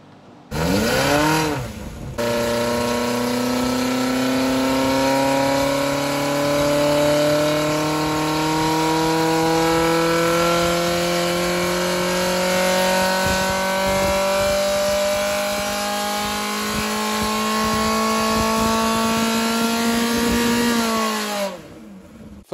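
A 2.1-litre Ford Pinto racing engine fitted with a tubular exhaust manifold revs steadily upward for about twenty seconds, loud and close, with a rising growl before cutting off abruptly.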